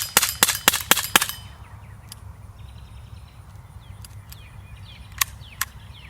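A Legends P38 air pistol is rapid-fired through a full magazine: about six sharp, snappy reports in quick succession close by, followed by quieter scattered clicks and faint outdoor ambience.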